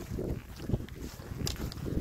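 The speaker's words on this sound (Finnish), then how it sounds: "Vähän viileä tuuli" Cool, gusty wind rumbles and buffets the microphone in uneven low surges, continuous for the whole short stretch with no voices, on a September wilderness hike in Tuntsa.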